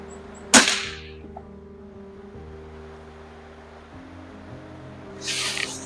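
A Weihrauch HW80 air rifle fires a pellet with a single sharp, loud crack near the start, then a low steady hum, with a brief hiss of noise near the end.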